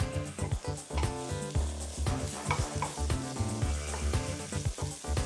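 Garlic and onions sauté in a pan for a pumpkin quinoa chili. A steady sizzle runs under repeated scraping strokes of a utensil stirring the pan.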